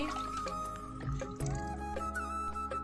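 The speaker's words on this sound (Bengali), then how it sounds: "মাছটা আমি ধুচ্ছি পাঁচ থেকে ছবার" A salted fish is rinsed in water by hand, giving soft drips, trickles and small splashes over a steady low hum, with no voices.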